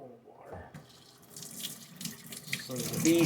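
Cold tap water splashing steadily into a sink, the flow growing louder toward the end, with faint background voices.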